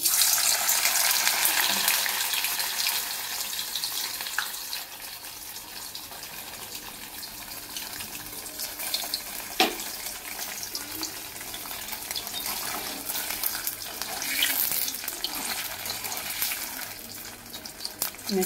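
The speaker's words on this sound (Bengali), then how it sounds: "চলো পনিরটা আগে ভেজে নেবো।" Paneer fries in a ladle with a loud, steady hiss that eases slightly over time, dotted with occasional small pops and crackles.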